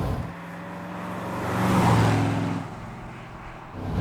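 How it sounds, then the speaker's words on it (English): A Daimler Dart SP250 V8 with an original two-part exhaust, one per bank, hums close by, swelling briefly in a smooth rev before settling back to a steady idle. "It also makes a great noise. Not your typical American V8 rumble."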